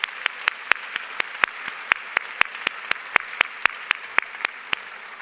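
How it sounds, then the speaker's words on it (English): Applause for children fills a gala hall at a leadership award presentation, a steady wash of clapping with sharp individual claps standing out at a regular pace, close and sustained for several seconds, with no one speaking over it. "Another round of applause for these wonderful children."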